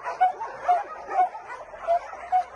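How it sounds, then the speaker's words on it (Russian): Soft, gentle barks from a dog at an animal shelter, about five short yips spaced roughly half a second apart at moderate distance, with no talk over them. "Кто это там так нежно гавкает?"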